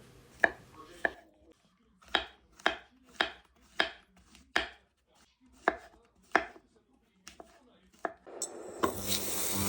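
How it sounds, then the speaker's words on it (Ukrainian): A knife cuts 500-700 grams of champignon mushrooms into strips on a board, about a dozen crisp close chops in an uneven rhythm, then a louder clattering noise at the end. "500-700 грам шампіньйонів ріжемо соломкою"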